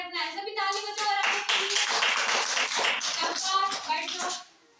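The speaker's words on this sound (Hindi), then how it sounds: "सभी ताली बजाओ" Children clap their hands together in a classroom, a dense, steady burst of many small hands lasting several seconds before stopping abruptly, with voices mixed in.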